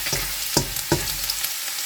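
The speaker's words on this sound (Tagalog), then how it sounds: "Yan yung ating mantika. Unahin natin ang garlic." Garlic frying in cooking oil in a pan, a continuous bright sizzle with a few sharp stirring scrapes and clicks; close and steady, no talking.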